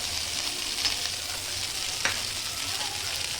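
Flattened rice (poha) being stirred in a hot pan for Maharashtrian-style poha, a steady soft sizzle with faint scraping of the spoon and a couple of light clinks, close and continuous without speech.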